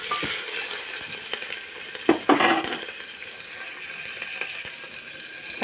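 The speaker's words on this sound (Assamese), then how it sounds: "কাটি লোৱা পিঁয়াজখিনি দি দিওঁ আৰু ভালদৰে লৰাই দিওঁ।" Chopped onions fry with whole cumin in a pressure cooker, giving a steady, loud sizzle throughout. A spoon stirs and scrapes against the pot in a few brief bursts, with no talking.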